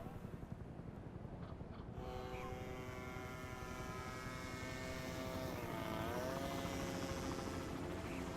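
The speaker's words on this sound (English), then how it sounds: "fly the plane." Propeller airplane flying in The Secret World video game, a steady droning engine hum that rises in pitch and holds, with no voices.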